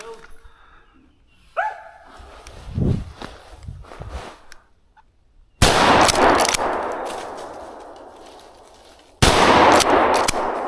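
Shotgun loaded with steel shot fired at a squirrel in a treetop during a public land hunt with dogs, two loud sharp blasts with long decaying tails about four seconds apart, after earlier rustling and talk.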